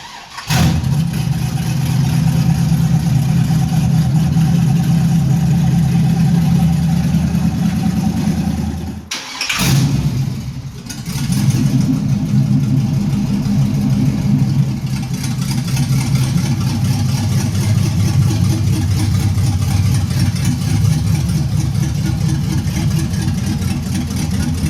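A 1980 Pontiac Firebird Trans Am with a carbureted 6.0 LS engine idles with a deep, steady rumble, cuts out briefly, then fires back up and keeps running loud and close with slight rises in revs and no talking.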